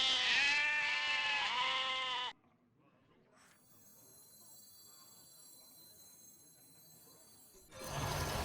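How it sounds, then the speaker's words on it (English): Goat bleating in the Hearthstone video game: one loud, wavering, nasal bleat up close lasting about two seconds, then faint game ambience and a thin high tone, ending with a burst of louder noise. "Got goat."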